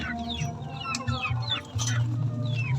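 A young gamefowl rooster (stag) clucks repeatedly in a backyard pen, its low clucks coming in short bursts close by while other birds chirp softly in the background; no one speaks.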